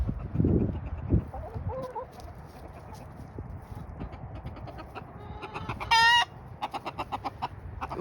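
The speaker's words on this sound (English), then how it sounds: "Alright, we have like 5 chickens over here." A small backyard flock of about five or six chickens clucks softly in the background, faint and intermittent, with a brief bird-like chirping burst near the end and quiet outdoor ambience throughout.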